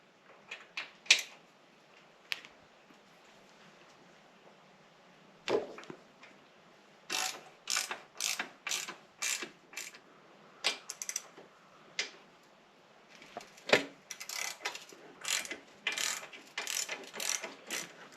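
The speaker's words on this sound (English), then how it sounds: "we're going to take these out with our handy dandy T27 Torx head socket" Rapid ratcheting clicks from a ratchet fitted with a T27 Torx socket as it backs out windshield bolts on a 2024 Harley-Davidson Fat Boy, coming in quick bursts close up, with short pauses between runs and no talking.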